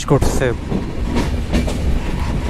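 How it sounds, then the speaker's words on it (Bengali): The Sagordari train rolls into Bheramara railway station with a loud steady rumble and wheel clatter, while someone talks over it. "আমাদের ট্রেনটি ২ মিনিট বিফোরে ভেড়ামারা রেলওয়ে স্টেশন প্রবেশ"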